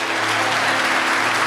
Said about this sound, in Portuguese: Pode aplaudir, irmão, pode aplaudir.